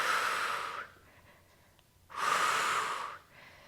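Two strong breaths pushed out through pursed lips during a Pilates workout, each a close, airy exhale lasting under a second, separated by a quiet inhale and pause.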